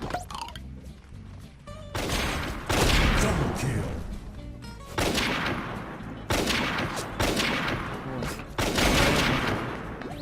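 Gunfire in the AvatarStar shooter game, from a sniper rifle in a level-15 weapons match: loud repeated shots and bursts in clusters, with dense crashing blasts filling most of the span and no talk.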